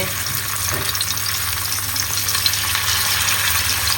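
Kavalai fish frying in a pan in a home kitchen, a loud, steady, continuous hiss and sizzle that holds evenly throughout with no talking.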